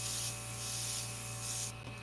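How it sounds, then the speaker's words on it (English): An Iwata CM-SB airbrush sprays brown Createx paint in a steady, close hiss that runs almost the whole time and then drops off sharply near the end. "So I can just spray that brown right back in there, and that will just pop that out."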